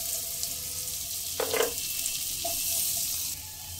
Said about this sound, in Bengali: পেঁয়াজ একটু নরম হয়ে আসা পর্যন্ত ভেজে নিতে হবে।